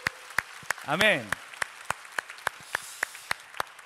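Sparse, scattered hand claps from a church congregation at a newcomers' worship service, a few individual claps spaced through the moment, with one voice briefly calling out a word early on.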